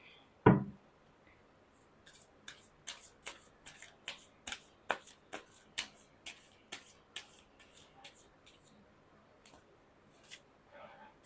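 Tarot cards being shuffled in a steady run of crisp riffling bursts, close up, after a single sharp tap at the start, with no talking over it.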